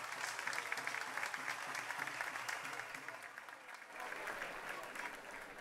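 Audience applause at a Catalan festa major event, a continuous, fairly distant crowd clapping that holds steady for the whole stretch, with a voice faintly present underneath.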